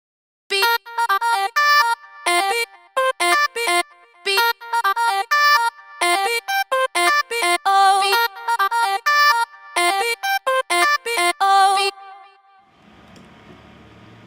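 An electronic track built from rapid, stuttering chopped vocal fragments in choppy bursts, loud and up front, ending in a short soft noisy tail.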